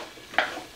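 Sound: mixed vegetable curry cooking in a pan

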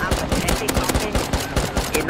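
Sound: gunfire at a helicopter in the video game Rust

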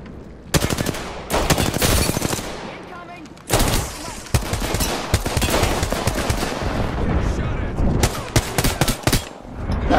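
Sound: automatic gunfire in the video game Apex Legends

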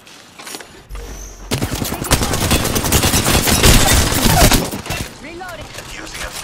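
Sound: gunfire in video game Apex Legends

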